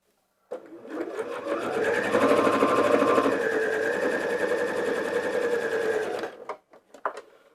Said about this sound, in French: Je vais coudre à 5 mm du bord